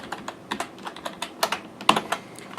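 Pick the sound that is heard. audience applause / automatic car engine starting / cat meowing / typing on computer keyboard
typing on computer keyboard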